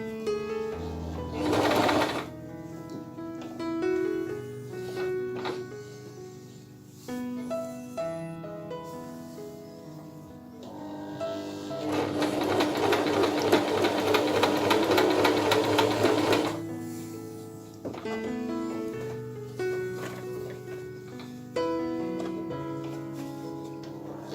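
Singer Promise 1408 domestic sewing machine running straight stitch in bursts, with a long sustained fast run mid-way, close and moderately loud with no talk.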